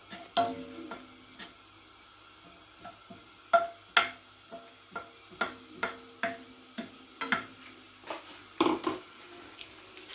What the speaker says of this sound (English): Once the oil gets hot, you just add a little onions on it.